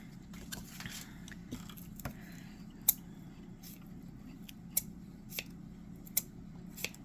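Scissors fussy-cutting patterned paper for a butterfly folio card, sharp close snips spaced about a second apart over a soft rustle of paper, with no talking.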